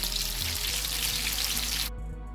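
Chicken and potato kebabs fry in oil, a loud dense crackling sizzle with faint clinks underneath that abruptly drops away near the end, leaving a quieter hum.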